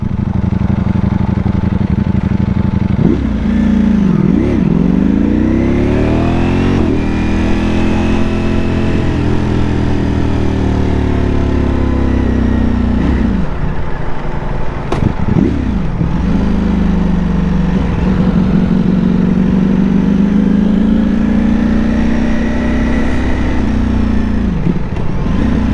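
A brand-new Ducati Panigale rides through downtown Orlando traffic, its engine droning loudly and close with repeated rising and falling revs as it accelerates and shifts, a continuous ride of over twenty seconds with wind noise and no talk.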